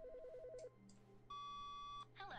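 An electronic telephone in the video game The Stanley Parable rings with warbling beeps, then a steady long tone and a burst of bright chirps, clean and synthetic, no talk.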